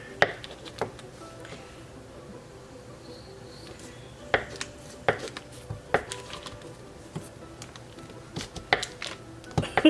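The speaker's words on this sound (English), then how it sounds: "I'm just using my little knife here to cut up my sticks of butter" A small kitchen knife slices sticks of butter into little squares on a cutting surface, giving a scattered series of light, sharp clicks and taps against a soft, quiet room background.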